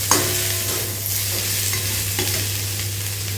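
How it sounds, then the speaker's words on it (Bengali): Onions sizzle in hot oil in a pan while being stirred for a Bengali potato curry, a steady loud frying hiss broken by a few scraping stirs, with a low steady hum underneath. "এটা নাড়াচাড়া করে ভাজা ভাজা করে নেব"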